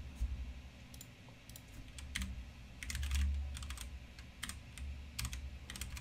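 Keys clicking on a computer keyboard while Python code is written, an uneven run of light taps in bursts over a low room hum, fairly close and without speech.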